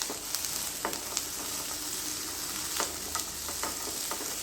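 Sliced onions dry-roast in a pan on the stove with little or no oil, a soft steady sizzle with light stirring taps, quiet and close, no talking.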